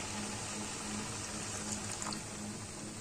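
Water runs into garlic masala in a cooking pot, a steady close trickle and bubbling splash over a low hum, without speech.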